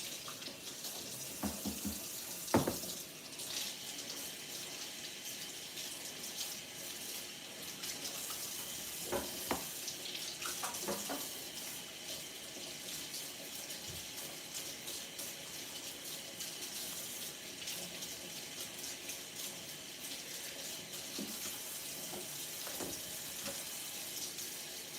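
Tap water runs steadily into a kitchen sink while vegetables are washed for a Sunday dinner, a continuous hiss broken by a few faint clunks and knocks from handling, with no talking.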